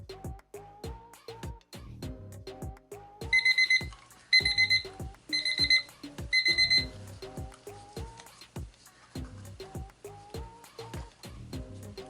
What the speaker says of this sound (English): our 5-minute timer